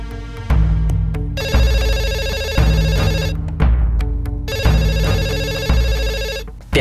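A telephone rings in repeated loud electronic bursts with a steady rhythm and short gaps between rings, heard close and alone with no talking.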